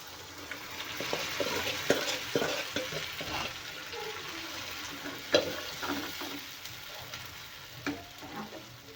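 Cooked urad dal, simmered with turmeric, a little oil and salt, is stirred into a hot pan, giving a steady sizzle broken by scraping spoon strokes and a few sharper knocks, close and moderately loud, with no voices.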